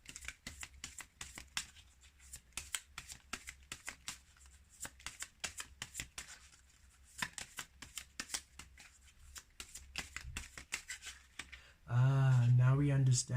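Tarot cards shuffled by hand in a rapid run of crisp riffling flicks, close and fairly quiet, ending with a brief burst of louder sound.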